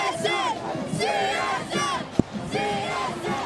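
A crowd in the stands at a high school football game, Desert Pines versus Arbor View, roars and yells together in sustained cheering, with one sharp bang partway through.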